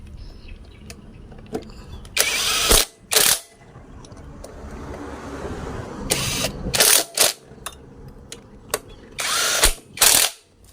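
Impact tool driving a modified Y wrench to tighten a bolt in a workshop: several sharp, loud rattling bursts in short clusters, separated by quieter stretches of faint handling noise.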